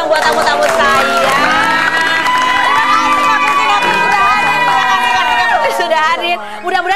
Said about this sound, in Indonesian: Tepuk tangan dulu dong buat tamu-tamu saya.